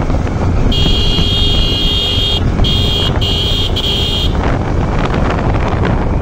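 A Honda motorcycle being pushed hard for speed, its engine note roaring loud and steady under heavy wind rush, with a high whining tone holding for a few seconds before fading out.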